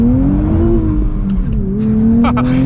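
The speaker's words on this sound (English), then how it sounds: "Bounce off the rev limiter a little bit" A 2023 Nissan Z engine climbs in first gear toward the rev limiter, a loud steady engine note that wavers and dips briefly before surging again.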